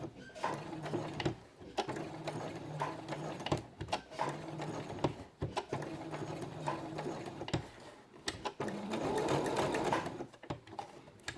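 Sewing machine stitching fabric for a quiet book, close by: several runs of rapid mechanical stitching broken by short pauses, with quiet handling clicks between runs.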